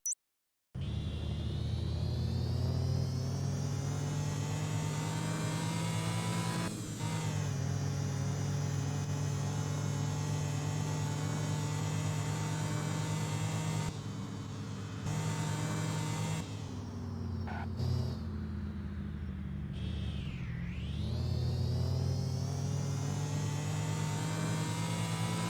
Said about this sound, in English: Superchargers now have a distinct whine.